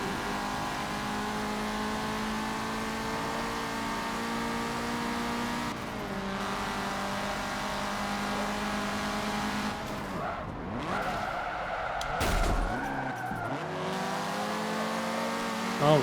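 Race car engines in Forza Motorsport 7 drone steadily at high revs through a sport compact race, with shifting gears, a brief tire squeal and revving changes near the end.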